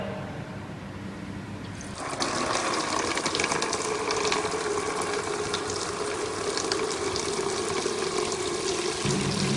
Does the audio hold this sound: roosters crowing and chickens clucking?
no